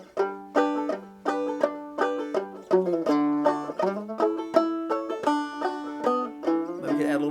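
Plucked banjo chords ring out in a steady rolling pattern, notes sounding clearly one after another as the harmony shifts through a progression, walking up, in the tune "Say Darling Say."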